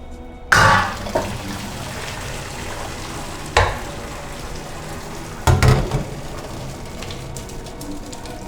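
Water drains from blanched cabbage in a steady, close rush, with a few sharp clanks of the pot or strainer.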